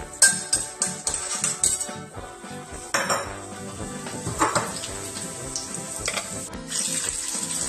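Dried red chillies and garlic with mustard seeds and cumin fry in hot oil in a pan, with a dense sizzle and frequent metallic clinks and scrapes of a spoon against the vessel, close and fairly loud throughout.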